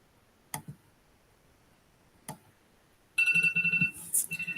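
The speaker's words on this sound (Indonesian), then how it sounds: "timer saya sudah berbunyi" A timer alarm sounds during an online teachers' session: two soft ticks, then bright electronic ringing in rapid pulsing bursts for the final second and a half, fairly loud and with no voices.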